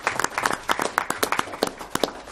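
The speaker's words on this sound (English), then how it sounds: "Let's have a round of applause for that." Round of applause at a school committee meeting, a brief scattered burst of claps from a modest group in a meeting room, irregular and fairly close, with no one talking over it.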